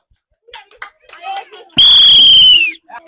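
Applause for contestants in an ice-holding challenge game among women, a dense burst of clapping close by lasting under a second, set between bits of speech and voices.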